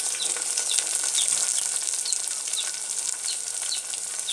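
Chopped onions and tomato frying in a pan for bottle gourd sabzi, a bright steady sizzle with periodic scraping chirps from stirring, close and continuous without speech.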